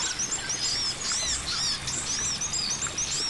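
A magpie-robin sings in a forest, with bright, repeated whistled phrases and chirps that ring out steadily, close and clear over a soft, constant background hiss.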